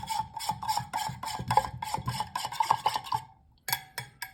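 A utensil stirring skimmed raw breast milk in a container, giving a steady, close series of soft scraping and swishing strokes in a regular rhythm, pausing briefly before a few final strokes.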